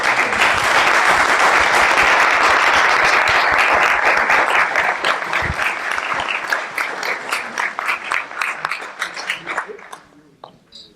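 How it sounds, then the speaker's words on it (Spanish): Audience at a political forum on electoral change breaks into loud, dense applause that stays strong for several seconds, then thins into scattered individual claps and fades out. "Así que démosle por favor un fuerte aplauso."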